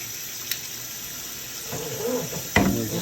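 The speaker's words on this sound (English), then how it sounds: "And we're just going to put the cold water on." Cold tap water runs over quail eggs in a kitchen sink, a soft steady stream that swells into a louder splash near the end, close by with no talk.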